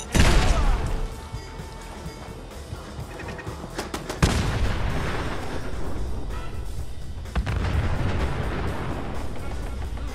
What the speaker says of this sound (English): Was that enough explosions?